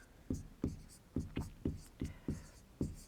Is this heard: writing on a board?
yes